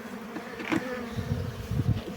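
Honeybees at chestnut-honey hives, buzzing as a close, continuous drone with swells as individual bees pass near, and no voices.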